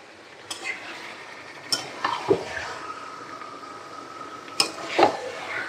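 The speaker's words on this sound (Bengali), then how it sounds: "এবার শুরু মাংস কষানো।" Chicken coated in yogurt and spices being stir-fried in a pan: a spatula scrapes and clanks against the metal several times over a low, steady sizzle, with no voice.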